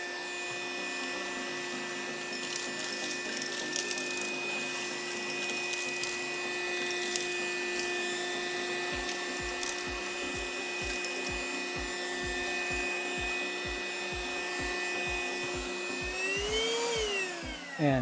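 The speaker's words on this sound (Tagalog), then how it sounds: "Cleaning power and suctioning capabilities nitong Perry Smith Extreme XS 20 series vacuum cleaner." PerrySmith Xtreme XS20 cordless handheld vacuum cleaner running on its lowest setting, a steady whine with a sharp rhythmic rattling that starts partway through, then the motor pitch briefly rises and falls near the end.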